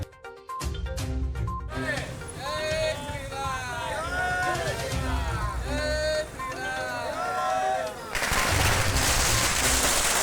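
Rapid crackling bursts of firecrackers at a political victory celebration in Dhule, India, amid a lively crowd and cheering voices, loud and dense, swelling into a heavy barrage near the end.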